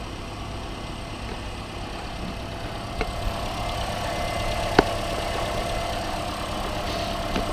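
A 2009 Toyota Corolla 1.8 engine idles steadily after a coolant refill, a close, even running hum with a couple of faint clicks and no talking.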